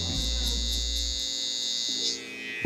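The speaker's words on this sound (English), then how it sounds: "That's why I use the other trimmer." An electric hair trimmer buzzes steadily and loud, close up, as it cuts hair for a low taper fade at a barber, then its pitch shifts briefly near the end.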